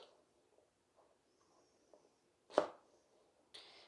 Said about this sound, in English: so you just want to cut these in half